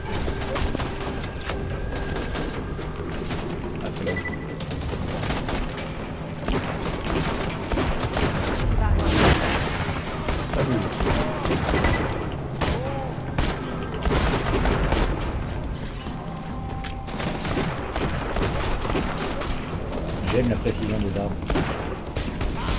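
Repeated booming shotgun blasts in Borderlands 2 (video game) mixed with other gunfire and explosions, continuing loudly and steadily throughout, with a voice speaking over the combat.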